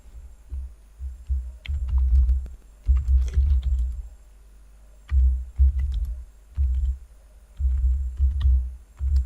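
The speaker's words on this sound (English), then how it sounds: "Now you can start typing here." Someone types on a computer keyboard at a Windows PC: close, clattering keystrokes come in quick runs separated by short pauses, with a faint steady hum underneath.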